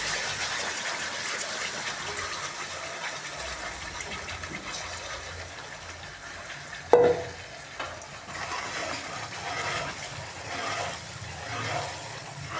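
A steady frying sizzle of a spice tempering in a pan runs throughout, broken by one sharp clatter near the middle and a few softer knocks afterward.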